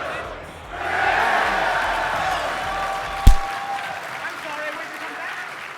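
A crowd at the Southern Slam 2016 tournament at PAX South applauds and murmurs with voices mixed in, broken by a single sharp slam partway through.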